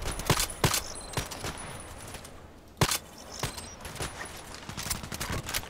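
EBR rifle firing in an online shooter game, a string of sharp, loud shots with irregular spacing, including one heavy crack near the middle, over a constant background hiss.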